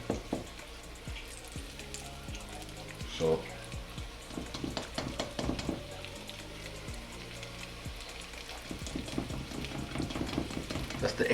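Flour-coated chicken wings fry in hot oil with a soft, steady sizzle and scattered crackles and pops; a voice briefly speaks once.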